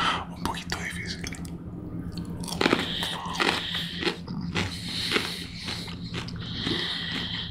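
Crispy boneless chicken bites eaten close to the microphone in an ASMR session: wet crunches and chewing come in an irregular run, intimate and fairly quiet, with soft whispered speech in between.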